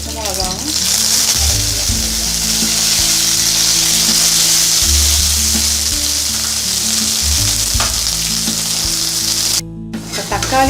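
Tomatoes sauté in a pan with mustard seeds, bay leaf, clove, cardamom and a little fennel for Kumbakonam kadappa, giving a loud, steady sizzle with occasional stirring scrapes throughout.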